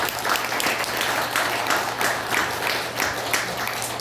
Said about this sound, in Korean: 우리가 축복의 박수, 격려의 박수,